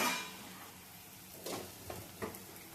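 Chopped onions sizzle gently in oil in a pan with turmeric added for kande pohe, a low steady frying hiss broken by a few short stirring scrapes.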